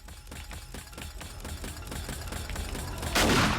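Automated turrets firing inside a mega killbox base in the survival game 7 Days to Die, a rapid run of sharp gunshots building in loudness and ending in a heavy, noisy burst, with no talking.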